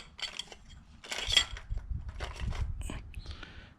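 Metal throttle plates from a 1997 Ford F350 with a 7.5-liter 460 EFI engine clinking and scraping as they are handled and dropped into a dunk vat parts cleaner, several close, light metallic knocks.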